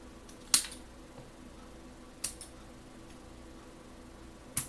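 Cardboard being cut to fit an insertion module on an M328 kit, three sharp isolated snips spaced a couple of seconds apart, close and quiet against a faint room hum.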